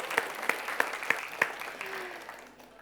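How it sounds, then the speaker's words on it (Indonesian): About five sharp claps ring out at a steady, even rhythm before tapering off, heard from an audience at a televised Indonesian student quiz competition broadcast by TVRI Sumatera Selatan. "Tepuk tangan lagi dong."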